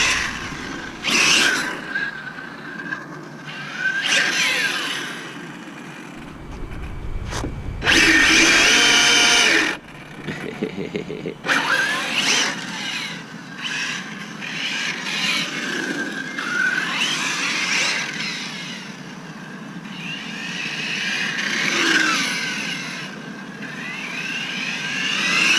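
Hobao VTE RC car driving fast, its electric motor whining loudly and rising and falling in pitch as it accelerates and passes close, with a burst of harsh roar in the middle and no talk.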